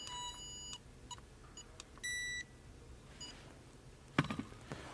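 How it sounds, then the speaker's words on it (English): Two short electronic beeps from a short finder tool used to diagnose electrical faults on a classic car sound close by, one near the start and one a moment later, over a quiet background with faint clicks. "I'm gonna turn off my short finder for now so it doesn't keep beeping at us"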